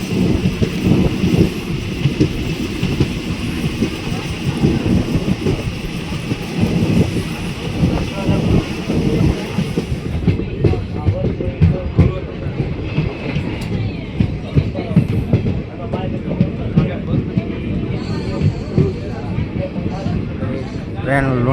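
A train pulls into Lunidhar railway station in Gujarat, a steady loud rumble of wheels and carriages running continuously throughout, with a dense rattling low roar and no pauses.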